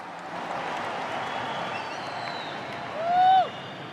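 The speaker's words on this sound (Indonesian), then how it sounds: "Kita beri tepuk tangan untuk beliau." Broad crowd applause from supporters at a NasDem party rally, a steady wash of clapping at moderate level that swells briefly near the end, with faint tonal sounds mixed in.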